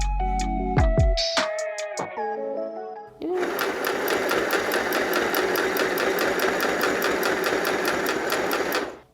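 A Puggle 2 sewing machine hems a shirt, running in a steady, continuous mechanical whir with a fast repeating stitch rhythm after a brief stop-start at the beginning, close and loud throughout.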